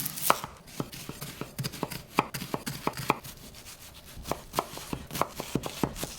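Brisk, irregular knife chops through a large yellow onion on a cutting board, a close series of crisp taps with no talk.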